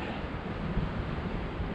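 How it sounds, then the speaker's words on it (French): Steady, roaring wind buffets the microphone while paragliding, a dense, unbroken rush with no voices. "Un petit peu de vent."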